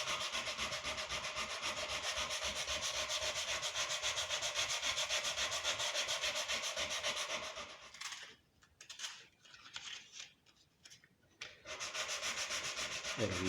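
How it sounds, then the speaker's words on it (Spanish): Wooden marquetry rubbed by hand with sandpaper, a steady close scratchy back-and-forth sanding for several seconds, then a few short, softer strokes separated by pauses before the continuous rubbing resumes. "vamos a lijar."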